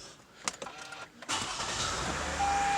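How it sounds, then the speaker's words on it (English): A 2014 Toyota Highlander's engine cranks and catches, then settles into a steady, fairly loud idle, preceded by a few clicks and thumps from inside the car. "We're going to go ahead and start the car."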